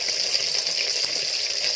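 Tilapia pieces coated with mustard shallow-frying in hot oil, giving a steady, bright, hissing sizzle with a crackling texture that runs unbroken and fairly loud throughout.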